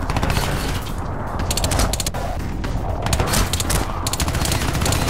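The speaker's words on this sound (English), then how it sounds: "Gun is way too silenced to be any sort of real sounding." Suppressed gunfire in Crysis 2 comes in rapid, dense bursts, loud and close, with several quick volleys layered over continuous battle noise and mechanical clatter.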